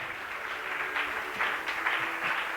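Church congregation applauding the Lord during a French-language sermon, a steady wash of clapping from many hands with swelling bursts, fairly loud and continuous without talk.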